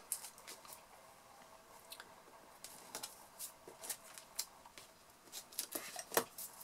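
Strips of tape being torn, producing sharp, fast ripping bursts scattered among faint rustles, close and quiet, growing busier toward the end.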